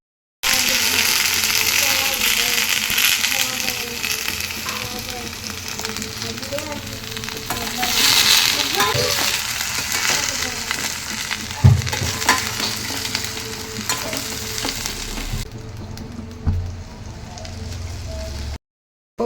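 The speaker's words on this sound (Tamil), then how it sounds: "ஸோ இப்போ வெண்டைக்காயை நம்ம லைட்டாக வதக்கி எடுத்துக்கலாம்" Okra sautéing in a hot pan for a Tamil dish gives a steady, close sizzle and frying hiss throughout, with occasional stirring clatter and a louder knock near the middle, before the sound cuts off at the end.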